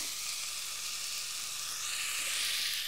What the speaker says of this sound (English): let that simmer away for a minute or two